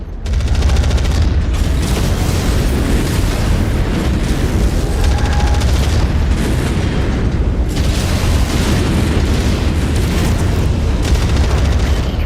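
Missile explosions in MechWarrior 5 Mercenaries: a dense, continuous barrage of booming blasts and rumbling impacts, loud and close, with occasional brief beeps.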